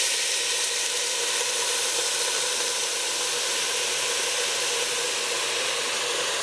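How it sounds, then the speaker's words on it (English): Risotto rice toasting in a pan sizzles and hisses loudly and steadily as white wine is poured in, a continuous close frying sound with no talk. "Next, we're going to add about 1/3 cup of white wine."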